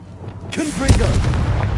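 In Hogwarts Legacy, the fiery blasting spell bursts out after a quieter start, landing as a sharp explosive crack that swells into a sustained booming rumble. A voice sounds briefly over the blast.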